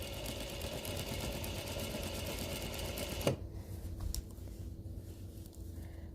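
A sewing machine stitching premade binding onto a quilt near a mitered corner, running with a steady whirring drone, then stopping abruptly partway through, leaving a quieter hum and a few small clicks.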